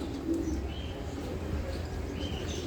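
A pair of sabji racer pigeons coo softly and repeatedly at close range over a steady low background hum, with occasional faint chirps and no talking.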